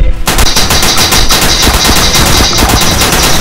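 Rapid automatic gunfire in Garry's Mod DarkRP, a loud continuous stream of bursts filling the whole stretch without pause.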